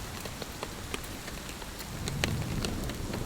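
Steady heavy rain pours down during a big storm outside a shelter, a dense continuous hiss with scattered sharper drops pattering close by and a low rumble swelling toward the end, no voices.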